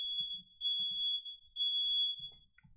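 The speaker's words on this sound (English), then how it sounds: "My fire alarm's going off." A home smoke or fire alarm goes off indoors, sounding a steady, loud high-pitched tone in long repeated pulses, while low voices talk quietly underneath.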